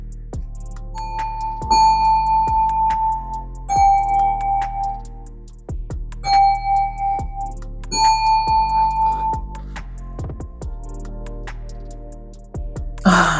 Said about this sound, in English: Them bells always do something to me